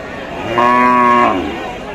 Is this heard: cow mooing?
yes